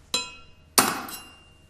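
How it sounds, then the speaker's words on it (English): Two sharp metallic hammer blows strike a drift to knock valve plugs and seal rings out of a separator purifier bowl's operating slide. The blows are close, loud and about half a second apart, each ringing briefly. "Remove the valve plugs and seal rings from the operating slide using a drift."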